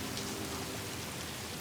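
Steady rain from the video game Satisfactory hisses evenly throughout, a dense, constant patter with no breaks and no voices.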